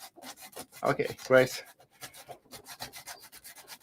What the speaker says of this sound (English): Man, I'm not good at sanding.